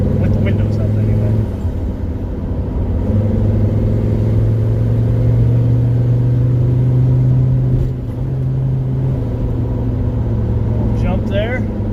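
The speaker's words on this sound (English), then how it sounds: "The intake, the turbo spooling is more noisy than anything." A Mercedes-Benz 300TD with the OM617 turbo diesel drives along with its windows up, giving a steady low engine drone and rumble whose pitch shifts slightly as the turbo spools, loud and continuous throughout.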